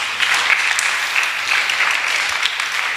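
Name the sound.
congregation applauding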